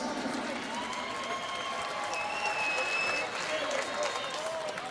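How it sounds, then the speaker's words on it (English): Crowd applause and cheering in a boxing arena after the fight, a dense roar of clapping under a voice talking over it. "How about a round of applause for both these fighters?"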